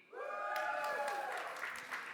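A conference audience at a TechChill tech event bursts into loud cheering and sustained applause, with many voices whooping together over the clapping.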